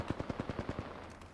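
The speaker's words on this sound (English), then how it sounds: "I'm under fire." Rapid machine gun fire in the video game Apex Legends, a burst of about eight evenly spaced shots close and loud, then fading into scattered game noise.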